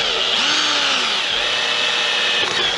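A power drill bores a pilot hole into an aluminium awning rafter on a van, giving a steady, close whirring grind for a few seconds with no talk over it.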